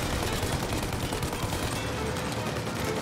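Cannon fire in the game Mafia Definitive Edition, a continuous dense barrage of rapid booming shots in a loud wash with no pauses, heard throughout.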